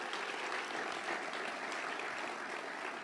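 A crowd at a city address claps for the developer community, a brief, dense and steady round of applause that sounds faint and far off.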